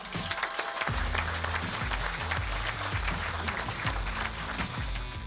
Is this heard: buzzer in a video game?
no